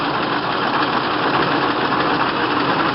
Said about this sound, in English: So even at super low RPMs, the Packard is still smooth and steady, just as it should be.